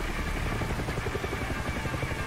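A helicopter in the video game Far Cry 6 drones loudly and steadily with a rapid rotor chop and engine whine, close and continuous with no speech.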